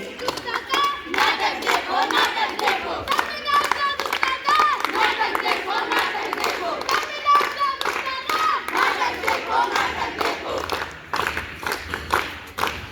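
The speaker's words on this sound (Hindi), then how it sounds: "जो जोरदार तालियां हो जाए उनके उत्साह को बढ़ाने के लिए" A school audience claps in dense bursts for students about to perform a play, while people cheer and shout over it, loud and close throughout, with talk mixed into the noise.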